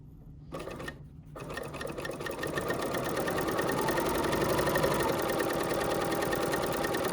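A sewing machine stitches a tote bag pocket in a steady, close, continuous mechanical whir that begins after a couple of brief pauses and settles into an even drone.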